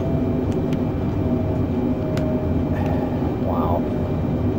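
Otter float plane in a flight simulator with live hurricane weather near Negril, its engine a steady, loud low-pitched drone that holds constant throughout with no clear rise, a faint chirp near the end.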